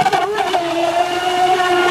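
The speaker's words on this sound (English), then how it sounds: "listen to the water when we come in" A brushless UDIRC UDI005 RC boat turns on the water, its motor whining steadily with a loud, continuous hiss of spray and wake close by.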